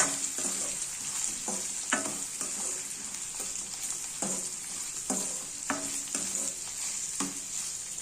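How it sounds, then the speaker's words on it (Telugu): Vegetables for upma fry in a pan under a steady high sizzle, punctuated by a regular series of sharp spatula scrapes and clacks against the pan roughly every half second to second, close and clear, with no one talking. "ఇలా వీటిని బాగా ఫ్రై చేసుకోవాలి."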